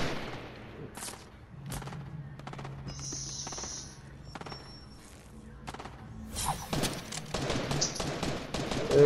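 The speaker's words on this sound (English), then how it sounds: "They're shooting at us." Scattered gunfire in Fortnite Battle Royale, a series of sharp distant shots and short bursts spread irregularly across the stretch, growing denser and louder near the end, with faint game ambience and occasional tones between them.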